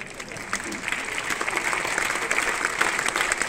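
An audience at an outdoor comedy show in Lioni applauds, a dense, sustained clapping that builds steadily and fills the space without pause.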